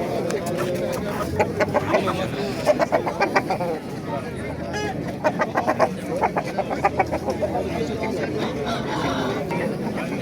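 Chickens and roosters cluck and call repeatedly at a busy poultry bazaar in Andijan, Qo'rg'ontepa, with voices talking over the birds.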